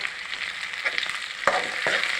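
Onions sautéing in a pan give a soft, steady sizzle, broken by a few sharp clinks and scrapes of stirring.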